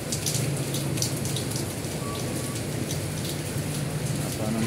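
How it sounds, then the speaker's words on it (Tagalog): Rain falls hard and constant, a full wash of hiss and patter with sharper drops striking close by. "Lakas yung ulan"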